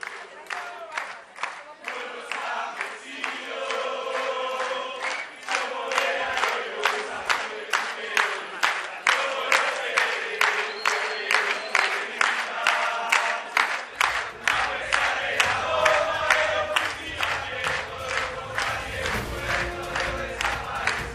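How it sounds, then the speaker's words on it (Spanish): A large crowd of young activists and international delegations at a progressive political rally with a politician claps and chants in a steady rhythmic beat, loud and sustained, with shouting voices mixed throughout. "Un fuerte aplauso para todas las juventudes, todos los compañeros que están hoy aquí y a todas las delegaciones internacionales."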